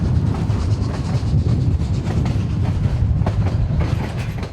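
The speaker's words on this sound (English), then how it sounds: "It's the same historic railroad that's been rolling down these tracks since the 1880s." The historic Cumbres & Toltec narrow-gauge railroad train rolls along the tracks with a loud, continuous low rumble and rhythmic clickety-clack of wheels over rail joints, heard close and alone.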